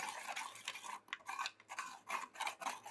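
A spoon stirs bicarb soda into a slime mixture in a bowl, giving quiet close scraping and clinking taps in an uneven rhythm.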